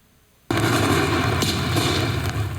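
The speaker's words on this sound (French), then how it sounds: "De la fumée, des bruits d'explosion et des blessés." During a fireworks factory emergency drill, after a moment of quiet, a sudden loud blast erupts into a sustained roar of crackling explosions and rumble that continues to the end.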